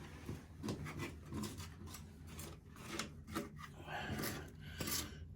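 Someone scrapes a toilet flange clean during a toilet replacement, producing close, repeated rasping strokes in an uneven rhythm, some harder and sharper than others.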